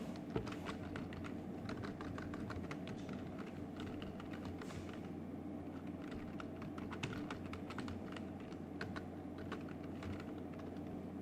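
Rapid, steady keystrokes on a computer keyboard, light clicks running continuously at a quiet, close level with no voices.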